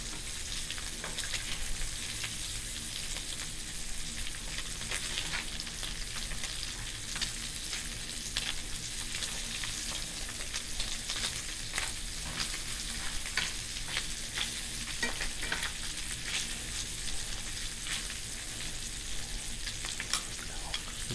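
Breakfast food browns in a skillet with a steady, close sizzle and crackle that runs on without a break, with no voices.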